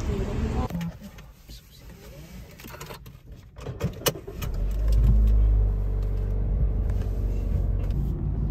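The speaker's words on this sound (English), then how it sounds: "Now this is us driving our cars back home." A car drives along a road toward home, a steady low engine rumble that swells louder midway and holds, with brief talk early on.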